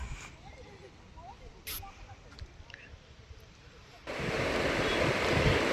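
Sea waves wash in at Padubidri beach, a steady surf roar that swells loud and broad in the final seconds, with wind buffeting the microphone throughout.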